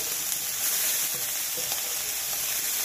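Chayote shoots sizzle steadily in a hot pan as they are stir-fried, a dense crackling hiss with no one talking.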